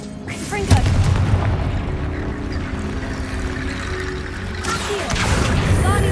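In the Hogwarts Legacy video game, a Confringo spell goes off with a sharp blast, followed by a long rumbling decay and a second burst of noise near the end, over game ambience.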